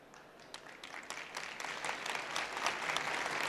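A large audience bursts into applause at a book-days talk in Aksaray, dense clapping swelling steadily and sustained throughout, with no voices over it.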